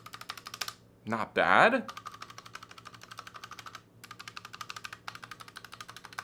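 Mechanical switches on an Akko ACR custom DIY keyboard kit, lubed, typed in a fast, even run of crisp close clacks that pause briefly while a voice speaks a few words, then resume steadily.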